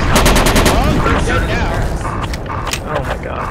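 Machine gun fire in the military game Project Reality, a Falklands assault on Goose Green: sustained, loud automatic bursts close by with distant rattling and booms behind, while soldiers' voices talk over the shooting.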